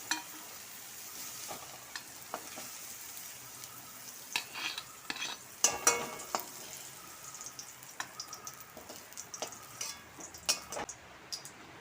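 Green chillies with carrot, capsicum and tomato fry in oil while being stirred for a spicy noodle dish, giving a soft, steady sizzle broken by scattered scraping and tapping of a utensil in the pan, close but quiet, with no voices.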